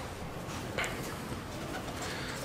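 Pigeons coo softly at a water dish after feeding on grain, a low steady murmur of cooing against a constant background hiss with one brief brighter call near the middle.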